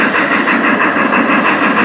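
A Pennsylvania model steam locomotive with a sound system runs on a museum layout, giving a steady, close mechanical rumble and hiss.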